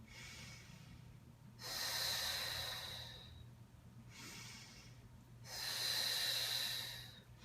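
Slow Pilates lateral rib breathing: two long, close inhale-exhale cycles of airy breath through the nose, each swelling and fading over about two seconds, quiet and unaccompanied by speech.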